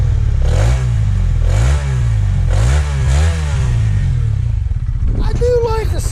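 A Honda CB125R motorcycle engine runs close by with a low, throbbing idle and several rising revs, while someone talks over it.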